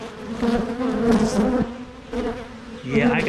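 Honey bees buzz densely around an opened hive during a split, a close, loud, continuous drone that swells and dips, with brief puffs of air blowing them aside.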